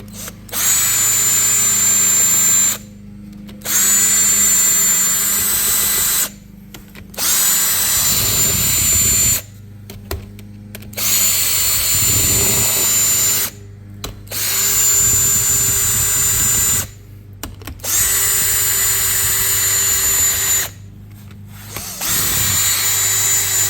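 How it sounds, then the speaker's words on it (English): A power drill backs bolts out of KTM 250SX engine cases after a piston failure: six loud, close whirring runs of a few seconds each, separated by brief pauses and light clinks of metal. "now that we have got that, let's pull these bolts out"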